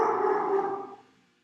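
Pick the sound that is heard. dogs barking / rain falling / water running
dogs barking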